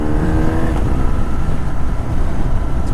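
An old MG car driving by with a throaty, slightly uneven engine drone that shifts in pitch as it passes, loud and close, no one talking.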